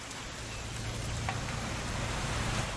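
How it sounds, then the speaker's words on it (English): Steady rain in the video game What Remains of Edith Finch, a soft continuous hiss of rainfall at an even level throughout, with no voices over it. "It's gonna rain the whole weekend, isn't it?"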